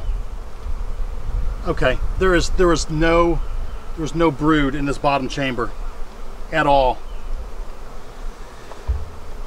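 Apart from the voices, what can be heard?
honey bees buzzing while combining beehives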